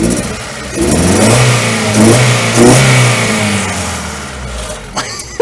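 Honda Civic engine idling a little rough, then revving up loudly several times in quick succession, the pitch rising and falling with each blip of the throttle before settling back down near the end.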